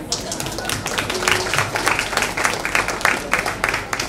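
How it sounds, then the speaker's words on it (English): An audience at a book launch claps at a steady, moderate level for a few seconds, close by with no talk over it. "I think that deserves a round of applause."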